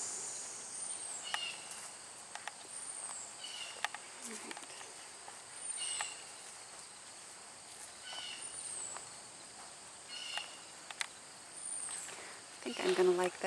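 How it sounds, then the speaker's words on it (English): Cicadas in a garden on a humid summer morning around eight o'clock, a faint continuous high buzz in the background, with a voice speaking intermittently over it. "It is a humid morning, though. It's like 8 o'clock, and you can hear the cicadas."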